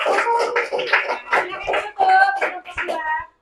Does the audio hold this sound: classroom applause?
yes